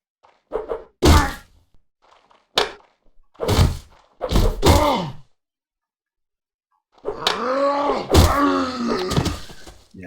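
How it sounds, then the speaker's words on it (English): Melee combat in the video game Mount & Blade, with loud weapon thunks and whacks alongside grunts, groans and pained cries from fighters, coming in separate bursts and then a longer stretch of clashing and shouting. "move the mouse the different directions and swing whatever weapon I'm having from various angles"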